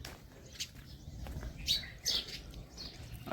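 Small birds chirp in short, scattered tweets around a village house, moderately close over a low outdoor hum, with no talking.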